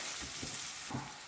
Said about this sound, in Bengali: অনিয়নটাকে আমি লাল করে ভেজে নেব